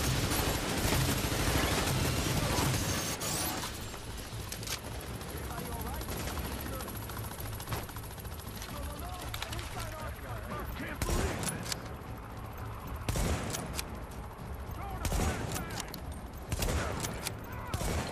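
Gunfire crackles through a firefight in the video game The Division: dense bursts of automatic fire and sharp individual shots, loudest at the start and returning in spurts, with voices calling out between them.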